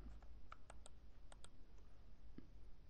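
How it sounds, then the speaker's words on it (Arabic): Faint, scattered clicks from a computer keyboard and mouse during work in design software, about eight sharp taps arriving irregularly over a few seconds in a quiet room. "نتك على كنترول من وحده المفاتيح في الكيبورد ومن الماوس"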